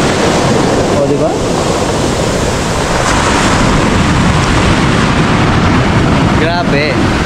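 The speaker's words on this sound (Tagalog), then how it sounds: "Tignan yun mong kung gaano kalakas yung alon." Big storm waves crash continuously onto the shore at Dingalan, Aurora, with strong wind roaring over the microphone. The surf is loud and steady throughout, and brief voices surface near the end.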